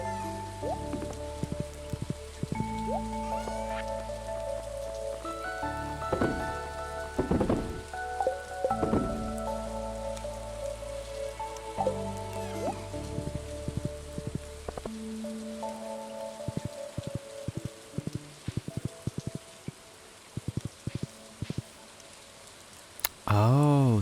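Rain patters steadily in the video game Stardew Valley, a continuous soft hiss under tonal game music that drops out partway, leaving the rainfall with some clicks.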